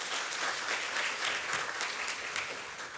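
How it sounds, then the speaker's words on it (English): Moderately quiet applause from an audience at an inauguration ceremony, a brief steady patter of many hands clapping with no voices over it. "Butch Carradine, let's give him a round of applause"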